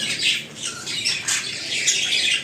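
Harsh, overlapping squawks of home-bred adult red-factor pet birds fill the whole stretch, loud and close, with chirpy calls mixed in and no pauses between them.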